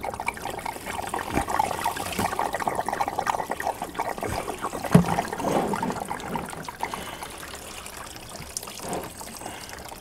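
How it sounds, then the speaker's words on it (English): Coolant draining out of a CFMOTO CForce 600 ATV engine during head work, a continuous trickling, splashing liquid stream close by, steady for most of the clip and easing off toward the end. "anytime you do head work, you got to drain the coolant, because if not, you will have a mess"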